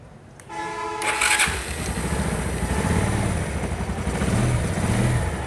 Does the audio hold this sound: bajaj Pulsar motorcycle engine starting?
yes